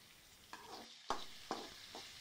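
Sliced onion with cumin seeds, mustard seeds and salt is sautéed in a pan, a soft low sizzle punctuated by four or five rhythmic spatula strokes scraping the surface, quiet and close.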